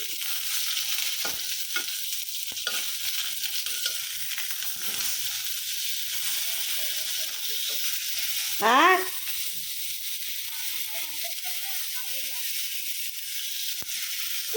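Tomatoes frying in a pan, giving a faint, steady hiss with occasional soft stirring scrapes, a brief louder swirl partway through, and a voice speaking.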